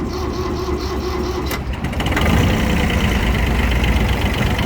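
A Kubota B1-16 4WD 16 hp mini tractor with a slightly flat battery cranks briefly, then its engine catches and settles into a loud, steady diesel idle heard up close.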